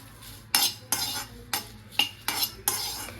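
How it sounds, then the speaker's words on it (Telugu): Ten or twelve broken dry red chillies roast in a bare pan on a stove with no oil, giving about six sharp scraping stirs at fairly regular intervals. Each scrape is close and crisp against a quiet background, with no talk. "పొయ్యి మీద స్టవ్ మీద గిన్నె పెట్టి ఎండు మిరపకాయలు వేపుతున్నారు"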